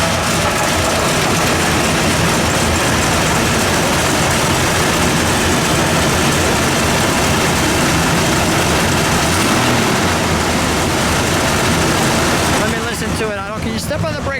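A red 1969 Buick GS 400 Stage 1 with a 400 cubic-inch V8 and four-speed idles loudly and steadily close by, a continuous low rumble that thins out and changes character near the end.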